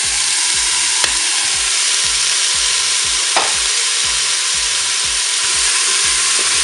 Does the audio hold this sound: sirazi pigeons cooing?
no